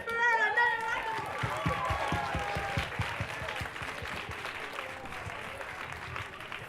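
An audience at a community volunteer awards ceremony applauds after a performance, a burst of clapping with a few voices and children's chatter that gradually thins out.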